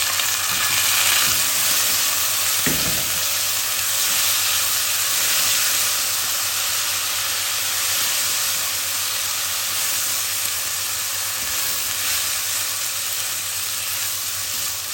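Rice stirred into a pan of toasted, golden-browned vermicelli gives a steady close sizzle and hiss with a faint scrape of stirring, continuous and even for the whole stretch, no voices.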